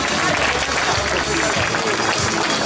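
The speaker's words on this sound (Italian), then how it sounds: "accoglierle tutte quante con un grande applauso" Audience applause greets the contestants at the Miss New Look 2018 beauty pageant, a dense, steady clatter of many hands that holds at the same loudness throughout.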